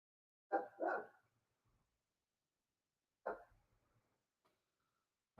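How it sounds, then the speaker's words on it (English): A single dog barks in short bursts indoors: two quick barks close together, then a lone bark after a pause of about two seconds, with quiet between. "As it would appear, Chloe is barking."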